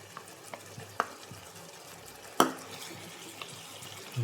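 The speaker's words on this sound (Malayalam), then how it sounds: "നന്നായി ഇളക്കുക" A spoon stirs thick, set curd into beef roast in a pan, giving a couple of soft clinks and scrapes over a quiet, faint background sizzle.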